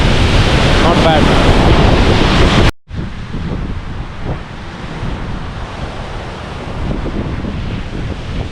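Near a small waterfall on the road to Kerlingarfjöll, Iceland, rushing water gives a broad, steady roar mixed with gusty wind buffeting the microphone, with a sudden drop in loudness partway through.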